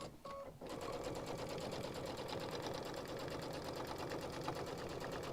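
A sewing machine runs a fast, steady stitch over a strap after a brief pause at the start, its rapid mechanical chatter close and continuous.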